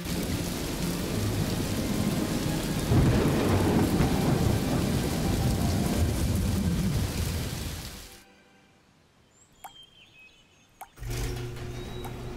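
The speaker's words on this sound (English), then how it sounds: "Oh, it's raining already." Heavy cartoon rain pours steadily with rumbling thunder for about eight seconds, then drops to near silence broken by a couple of faint cracks before the downpour returns.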